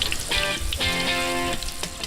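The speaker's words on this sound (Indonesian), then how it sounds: "Kalau goreng rempeyek teh apinya jangan besar, cepat gosong nanti." Rempeyek, peanut and shrimp crackers, frying in oil on a low flame, giving a steady close crackle and hiss with a few brief tonal clinks over it.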